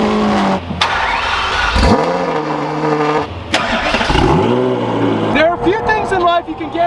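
A Lamborghini Aventador V12 engine revs hard in repeated surges, dropping and climbing again, loud and close with sharp throttle blips.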